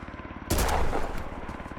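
A single loud gunshot fired at a mine in the survival shooter Road to Vostok, a sharp crack followed by a short rumbling tail over a quiet ambient background.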